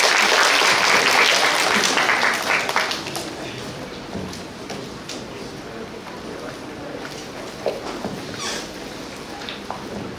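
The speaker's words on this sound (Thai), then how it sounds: "ขอเสียงปรบมืออีกครั้งครับ" Applause from a seminar audience, a loud dense wash of clapping that tapers gradually into scattered claps and a quieter murmur.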